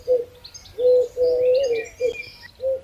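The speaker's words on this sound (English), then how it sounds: "Dove." A dove coos in a series of soft, hollow hoots, close and clear, with a short pause between each phrase and faint chirps behind.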